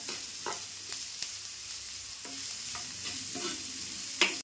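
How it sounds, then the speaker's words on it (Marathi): Chopped onion cooks soft in a pan, a steady gentle sizzle broken by repeated scraping and stirring strokes of a spoon, with a sharper clatter near the end. "कांदा ना असा थोडा मऊ होईपर्यंत शिजून घेणार"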